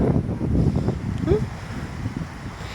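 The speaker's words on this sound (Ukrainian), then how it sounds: "А ось тут море" Wind buffets the microphone at a seashore while sea waves wash in with a steady, low roar, close and continuous, with no voices.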